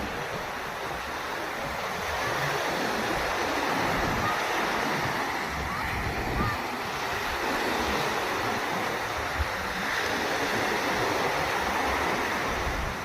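Sea waves wash steadily onto a beach in the evening, a continuous broad surf roar with gentle swells and some wind buffeting, no voices over it.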